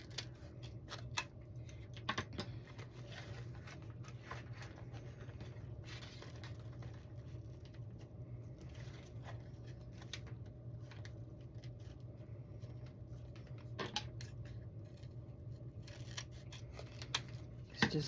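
Scissors snipping wreath material at an angle, a long run of small crisp cuts and clicks repeating irregularly over a low steady background hum, close and fairly quiet, with no talking.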